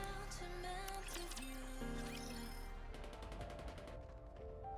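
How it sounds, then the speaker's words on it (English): Rapid bursts of gunfire crackle in quick repeated volleys, a steady rattling series near the end, against a busy electronic background, in the video game NIKKE. "Gunfire rings out."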